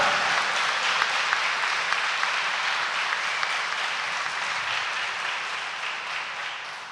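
A church congregation applauding during a Third Sunday of Easter homily, dense steady clapping from many hands, loud and sustained throughout and fading slightly toward the end.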